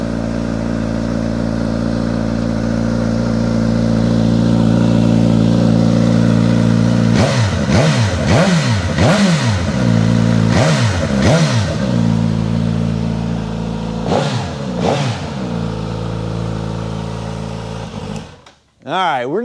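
A 2022 Suzuki GSX-S1000GT motorcycle engine runs on a dyno from a cold start, idling steadily before a series of sharp throttle blips that rise and fall, then cuts out near the end.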